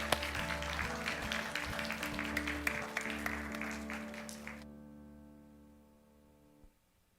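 Steady applause from a church congregation carries on for several seconds, then stops abruptly and leaves a fading hum.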